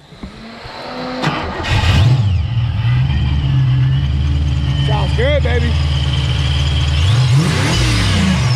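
A car engine with a roller rocker modification cranks and fires up, then revs and settles into a steady rumble, with brief speech near the start and a cheer in the background.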